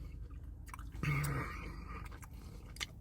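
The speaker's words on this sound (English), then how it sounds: "You hear how I'm chewing?" Close-up chewing of New York pizza, wet squishy bites and mouth sounds repeating over about three seconds, near and fairly loud with no talking.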